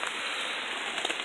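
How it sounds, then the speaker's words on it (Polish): Rain falling under linden trees outdoors, a close, steady hiss of dense drops pattering on leaves and ground, even and unbroken with a few slightly louder ticks near the end. "będziemy widzieć, jak przejdzie ten deszcz"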